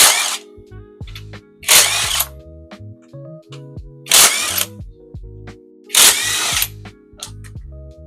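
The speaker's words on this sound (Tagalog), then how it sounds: "Tapos gagamitan natin ng impact wrench para mas mapabilis yung trabaho natin." An impact wrench loosens CVT crankcase bolts on a scooter, firing four loud rattling bursts close by, each followed by quieter clicks and handling noises between them.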